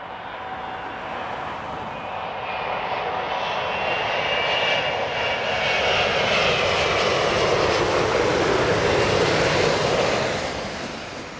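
An Emirates jet airliner inbound from Dubai to Heathrow roars overhead, its engine noise swelling steadily, holding loud with a whining tone, then easing slightly as it passes, with no voices.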